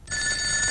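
A telephone rings in a house, a single steady electronic bell tone that starts abruptly and holds for under a second, fairly faint and alone.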